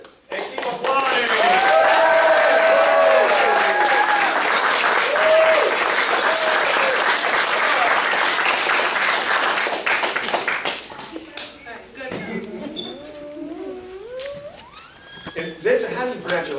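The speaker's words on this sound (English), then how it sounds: "And keep applauding." Loud, sustained clapping from the audience at a martial arts belt ceremony at the Mount Dora Family Martial Arts Center, with voices talking over it, thinning into scattered claps and speech in the later seconds.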